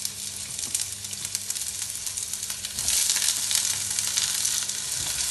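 Chopped onion hits a mushroom sauce for pork chops with vegetables, setting off a steady broadband sizzle that swells louder halfway through and carries on without talk.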